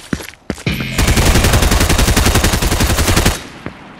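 Gunfire in Fortnite with a lever-action shotgun in play: a tight, rapid string of loud, evenly spaced shots lasting a couple of seconds, with a few softer knocks before it.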